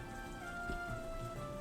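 Heavy rain in the strategy game Banner of the Maid, a steady, even hiss of falling rain at moderate level with a faint sustained musical tone beneath it, no voices.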